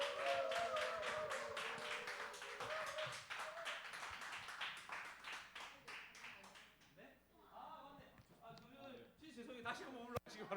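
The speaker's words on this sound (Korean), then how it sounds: "나오실 때 박수로 환영하시겠습니다." Dense clapping from a church congregation welcoming a preacher to the front, steady and lively for about seven seconds before thinning out into quieter scattered sounds.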